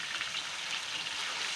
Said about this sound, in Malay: Tumiskan bahan kisar dalam kuali biar sehingga pecah minyak.